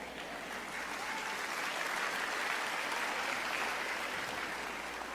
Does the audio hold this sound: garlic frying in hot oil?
no